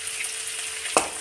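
Curry leaves and onions frying in a pan, a steady soft sizzle throughout with one brief louder crackle or stir near the end, close and without speech.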